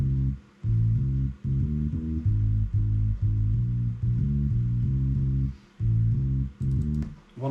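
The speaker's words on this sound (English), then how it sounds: "My bass line sounds like this." A programmed bass line for a boom bap hip hop beat plays deep repeating notes in a steady, choppy rhythm with short gaps between phrases, heard alone and fairly prominent.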